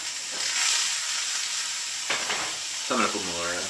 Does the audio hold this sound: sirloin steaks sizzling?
yes